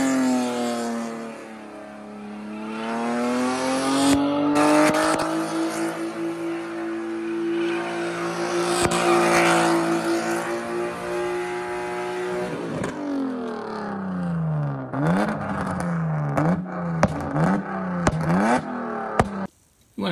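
The engine of a BMW E36 325i with an open differential revs hard and is held high while the car does donuts. Its pitch swells and dips over a sustained drone, with rhythmic surges and clatter near the end.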